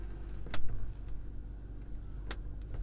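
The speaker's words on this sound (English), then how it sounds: "So the door just closed itself." A BMW X7 door on a 2020 40i M Sport pulls itself shut with its soft-close mechanism, giving a short nearby mechanical clunk and a second latch click under a low steady cabin hum.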